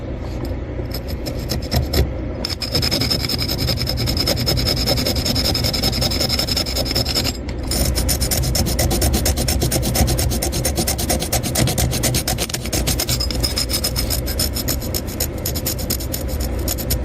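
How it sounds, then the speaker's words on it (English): A leg detail on an engraved coin is sanded down, giving a continuous close, raspy rubbing with steady back-and-forth strokes and a few brief pauses. "I'm gonna sand this leg down and some of the surrounding, put a little detail in it."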